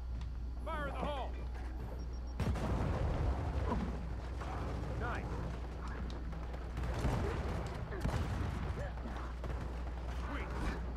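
Grenade blast and gunfire in Gears of War 4 combat: a sharp burst of broadband noise lands around two seconds in, followed by sustained rumbling and scattered shots, with another surge near eight seconds, over a steady low drone and occasional speech.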